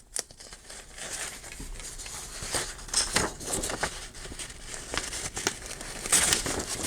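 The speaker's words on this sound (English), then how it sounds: "block out where I need to tear my hole because I am going to tear" Paper tearing and crinkling while a hole is ripped for a giant tunnel tag craft, a close, steady run of rustling rips and crackles with no talking.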